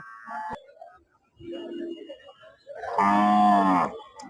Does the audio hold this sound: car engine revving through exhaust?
no